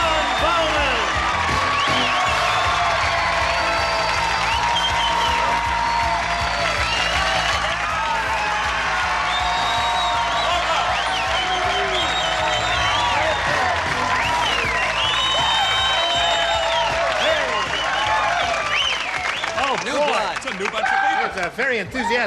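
A large studio audience at a Match Game–Hollywood Squares game show claps and cheers loudly and continuously, a dense sustained wash of applause with voices mixed in.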